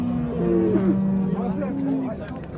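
A cow at a busy livestock bazaar lows in several drawn-out moos close by, with people chattering in the background.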